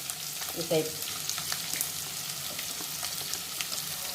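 Chopped onions dropped into hot oil for tangy pulla upma, giving a continuous crackling sizzle close up, with a brief clatter as they go in and scattered pops and small utensil knocks afterward.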